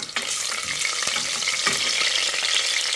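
Garlic, two green chillies and curry leaves frying in hot oil for radish sambar, a dense steady sizzle with a few stirring clicks, close and constant, no talk.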